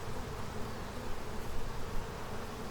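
Honey bees swarm around an open hive box during a queen transfer, a thick, continuous buzz filling the air close by, steady and loud without pauses or talk.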